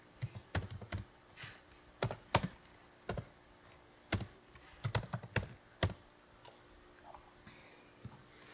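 Computer keyboard typed in irregular bursts of sharp clicks while writing code for an object-oriented turtle graphics program, close and fairly quiet, with pauses between keystrokes and no speech.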